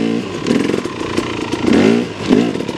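Motorcycle fitted with a Rekluse auto clutch revs up in a couple of swells, close and loud, with some mechanical clatter and no speech.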